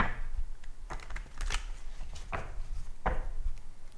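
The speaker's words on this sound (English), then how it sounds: "Shuffle a little bit more." A deck of tarot cards being shuffled by hand during a card reading, with several crisp riffling bursts and soft card slaps separated by short pauses, close and fairly quiet with no talking.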